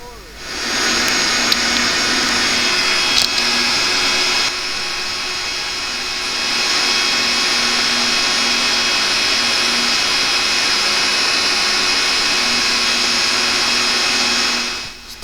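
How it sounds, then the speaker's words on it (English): A small electric air pump blows into a coal forge, a steady loud whir and rush of air running continuously, dipping briefly in level partway through before rising again, with no talk over it. "Nice tiny little pump does the world of good."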